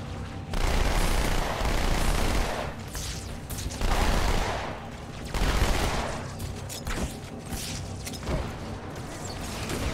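Dual-wielded SMGs firing in Halo 2, sustained rapid automatic bursts in several long stretches separated by brief pauses, loud and dense.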